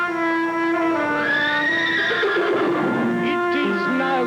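A horse neighs loudly and close by, a long, shaking whinny that rises and then falls in pitch over several seconds.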